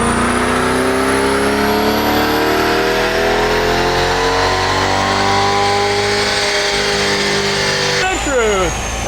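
A modded Chevrolet Corvette C8 engine on a dyno revs in one long rising pull, loud and close, climbing steadily in pitch before dropping off sharply near the end. Talk is heard over the engine.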